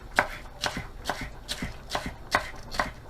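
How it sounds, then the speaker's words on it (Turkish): A knife chops green peppers rhythmically on a cutting board, about seven crisp, evenly spaced taps. "Sıra geldi yeşil biberlerimize. Onları da şöyle ortadan keselim ve ince ince doğrayalım."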